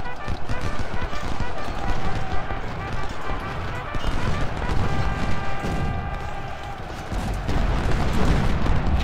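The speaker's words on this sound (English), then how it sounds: "There it is. Cannon's shot is there." Cannon artillery booms in the Ultimate General: Civil War video game, heavy thuds rolling through dense battle noise while someone talks over it.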